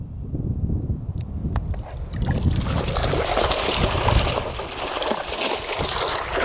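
A small water pump in a lab flow setup starts running and water rushes through the system, a steady broadband whoosh that grows louder and then holds continuously.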